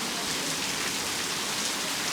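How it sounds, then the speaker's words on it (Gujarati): Heavy monsoon rain pours down in a steady, dense roar that fills the whole stretch without a break, with no voices over it. "બગડાટી બોલાવે એવો વરસાદ આવે ને જોર કરી."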